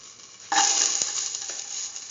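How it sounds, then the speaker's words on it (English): Garlic hits a hot pan for a lentil pumpkin stew, bursting into a loud, steady sizzle that holds close and bright after a quiet start, with a brief knock partway through. "Now put in the garlic"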